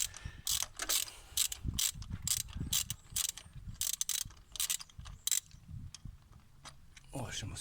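Ratchet with a 16 mm spark plug socket loosening a spark plug on a Nissan Almera N16 1.5, giving rapid close clicking bursts in irregular runs, fairly faint with small handling knocks between.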